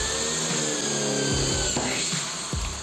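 A Bosch GBM 350 electric drill with a 4 mm bit bores into hollow steel tubing, giving a steady loud motor whine with grinding scrapes and a few sharp knocks near the end, no talk.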